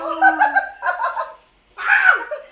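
A person imitates a hen with loud, close clucking and cackling bursts, two runs of sound separated by a brief silence.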